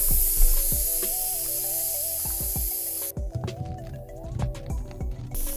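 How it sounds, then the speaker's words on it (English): Air hissing steadily out of a football's valve as it deflates, a loud close spray of noise that cuts off abruptly partway through, followed by faint clicks and handling sounds. "I'm going to deflate the ball. I'm going to take some air out so I don't pop it"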